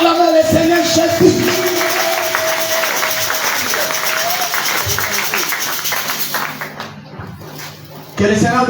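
A church congregation at a French-language sermon breaks into loud, sustained applause and cheering for the Lord Jesus, a dense wash of clapping and voices that fades briefly near the end before swelling again.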